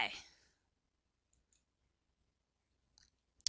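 A computer mouse clicks the OK button: a few light, sharp clicks spaced apart in a quiet room, following a short burst of noise at the start.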